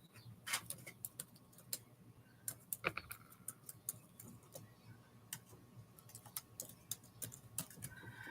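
Fingers tap on a computer keyboard in an irregular run of light clicks, close and fairly quiet, with brief pauses between bursts of keystrokes over a soft room hum.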